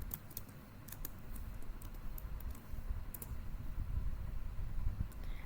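Keys tapped on a computer keyboard as a web address goes into a browser search bar, a light irregular patter of clicks over a low background hum, with no voices.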